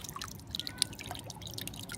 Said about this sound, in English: there's all the water coming out.